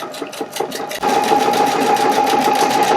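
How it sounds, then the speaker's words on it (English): A sewing machine stitches down the center of a fabric pumpkin section, first in a slower rhythmic patter, then settling into a steady, loud, continuous whir of rapid stitching. "we're just going to let that stitch out right down the center of that pumpkin section"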